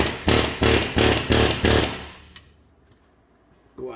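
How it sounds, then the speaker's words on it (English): Air chisel fitted with a long punch hammers on a 2010 Jeep Wrangler rear axle backing plate: five loud, rapid rattling bursts in a steady rhythm, then quiet shop ambience with a faint knock and a short clank at the end. "if you use a long punch on an air chisel from the back side, you can push the backing plate off with that flange"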